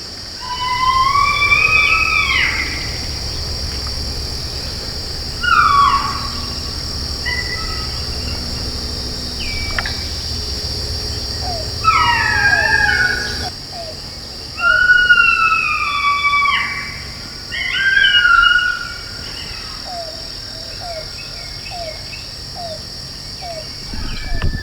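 Imitated coyote pup howls from a hunting call, answered by coyotes in a cornfield and a nearby draw: repeated high, wavering howls and yips come in bursts at middle distance over a steady drone of insects.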